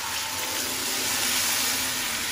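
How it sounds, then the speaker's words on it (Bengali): Water poured into a pan of fried onions, giving a steady, loud, broadband hiss and rush that continues unbroken throughout, close by, with no voices. "আর এখন অল্প পরিমাণ পানি দিয়ে দিবে"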